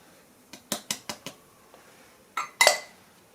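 Spoonfuls go clinking into a saucepan, a quick run of four sharp metallic taps followed by a pause and two louder scraping clanks, close and otherwise quiet.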